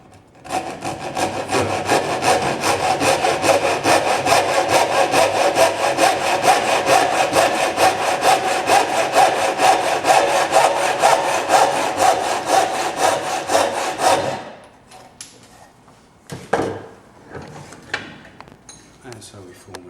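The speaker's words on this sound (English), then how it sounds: "If you use the saw, put your angle so that it's upright" A hand saw cuts wood for a dovetail halving joint with close, loud, rhythmic back-and-forth strokes for about fourteen seconds, then stops, leaving a few scattered knocks and handling sounds.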